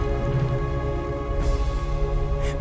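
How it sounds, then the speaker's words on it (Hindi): Rain begins to fall in a jungle setting, a dense steady patter of drops on surfaces heard under a sustained tonal hum. "फिर अचानक से बारिश होने लगी।"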